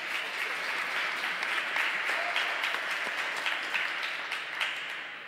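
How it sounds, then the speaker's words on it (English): An audience at a youth sports and education event bursts into sustained applause, a dense steady wash of many hands clapping at even loudness for several seconds, tapering slightly at the end. "So give yourselves a round of applause."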